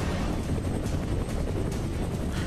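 Military gunship helicopter in Prototype 2, heard as a steady, loud low rumble with dense broadband roar and faint rhythmic chopping, continuous throughout with no talk.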